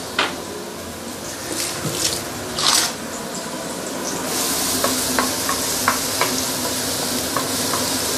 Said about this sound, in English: saute our garlic.